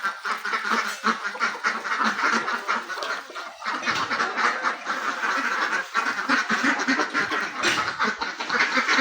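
Flock of egg-laying domestic desi ducks on a farm, quacking in a dense, overlapping chorus, close and fairly loud, with no voices over them.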